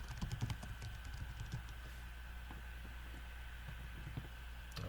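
Faint, quick clicking of keys on a computer keyboard in short irregular bursts, heard alone over a low hum.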